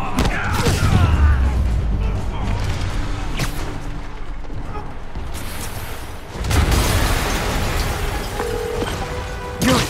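An explosion in the video game Marvel's Spider-Man Remastered produces a deep, loud boom early on and a second heavy broadband blast later, over dense game ambience and rumble.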